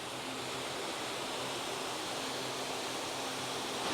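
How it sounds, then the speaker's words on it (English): A waterfall and river flowing in the jungle near Ubud make a steady, broad rushing roar that stays constant throughout, with no voices. "in order to get over to the waterfall, you actually have to cross the river here"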